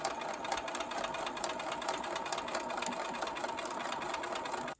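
A sewing machine stitches across quilt fabric for a Lone Star block, a close, steady whirring drone with a fast needle rhythm that runs evenly for several seconds and then cuts off.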